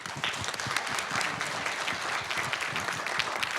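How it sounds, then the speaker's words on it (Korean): Warm, sustained applause from a forum audience for six panelists and presenters, a dense, steady wash of many clapping hands at close range, continuing evenly without a break. "6분의 토론자들, 발표자들 모두에게 뜨거운 박수로 환영과 감사의 마음을 표현해 주시기 바랍니다"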